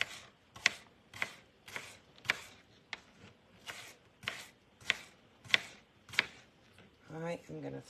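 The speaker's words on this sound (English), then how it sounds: "I'm just going to cut up a whole onion." A knife chopping a whole onion on a cutting board, about ten sharp, evenly spaced chops close up, followed by a brief bit of other kitchen noise at the end.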